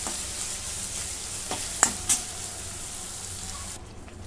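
Chopped onion with salt fries in a pan, a steady close sizzle with a few sharp crackles and stirring scrapes before it cuts off near the end.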